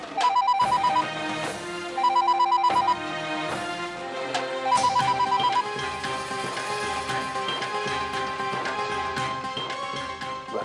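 A telephone rings unanswered in a house, sounding in repeated electronic bursts about every two seconds over a bed of background music, with no one speaking.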